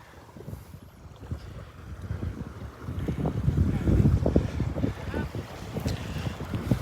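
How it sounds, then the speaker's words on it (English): Breezy wind at Delnor-Wiggins beach near Wiggins Pass rushes across the microphone as a steady low roar that builds louder midway, with faint surf-like wash beneath and no clear speech. "Little breezy out here."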